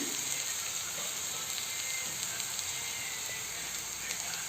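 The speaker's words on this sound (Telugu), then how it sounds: "ఇది బాగా ఫ్రై చేసుకోవాలి, అంటే పచ్చివాసన అంతా పోయేంత ఫ్రై చేసుకోవాలండి" Ridge gourd chutney ingredients fry in a pan, giving a steady, even sizzle and hiss that holds without pause, close by and quiet, with no talking.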